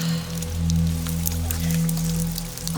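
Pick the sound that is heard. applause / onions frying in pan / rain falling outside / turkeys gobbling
rain falling outside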